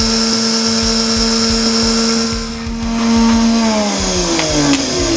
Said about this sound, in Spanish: vente para acá que vamos a licuarlo. La batidora.